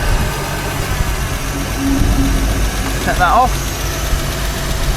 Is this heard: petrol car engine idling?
yes